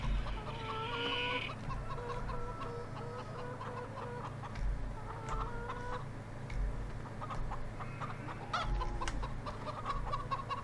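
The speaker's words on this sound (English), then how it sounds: "I can hear chickens." Chickens in Farming Simulator 15 cluck steadily over a constant low background hum, moderately close, with a few sharper squawks and no talking.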